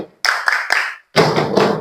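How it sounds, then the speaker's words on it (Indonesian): Hands clap along to the Indonesian children's song 'Kalau Kau Suka Hati': three sharp, evenly spaced claps, a brief pause, then a denser, longer burst of clapping and noise. "Kalau kau suka hati tepuk tangan."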